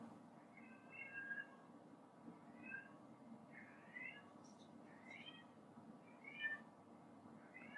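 A house cat meows repeatedly in the background, a series of faint, plaintive cries spaced a second or so apart over a quiet room.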